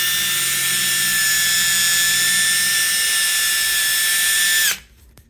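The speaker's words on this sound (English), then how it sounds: "Let the weight of the drill and the foam pad do the work." A power drill fitted with a foam pad polishing the top of a green Yamaha guitar gives a loud steady high-pitched whine that runs unbroken for nearly five seconds, then winds down and stops.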